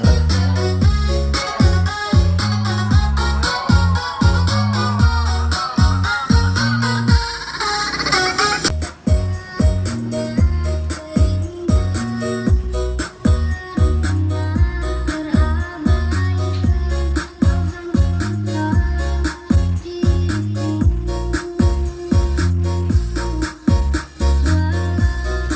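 Loud, bass-heavy music pumping through a DAT active loudspeaker, with a steady thumping beat and booming low end after a brief buildup, no talking.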